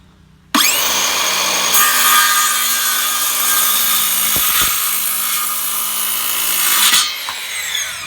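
A Makita 18V cordless circular saw with a new blade cuts through a 2x4, starting with a sharp spin-up into a loud, sustained whining rip through the wood for several seconds before the blade exits and runs down.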